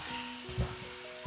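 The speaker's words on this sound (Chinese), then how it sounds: "倒入煎香的大蝦，然後快速的翻炒均勻" Prawns pan-seared then stir-fried with minced garlic in a wok, a steady close sizzle with a few brief scraping stirs, loud and without talk.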